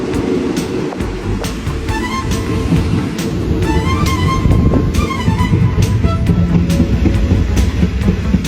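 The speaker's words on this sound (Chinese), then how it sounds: "484次列车缓缓驶离塔纳朗站。" A Laos–Thailand international passenger train pulls out of Thanaleng station, its loud rumble building steadily with rhythmic wheel clacks and occasional high metallic squeals, heard from on board.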